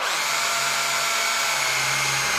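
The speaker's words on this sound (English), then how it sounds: "I'm just going to pre-drill the hole with a sharp bit" A power drill with a sharp bit pre-drills a hole, whirring steadily and loudly, close by, with a constant high-pitched motor hum and no voices.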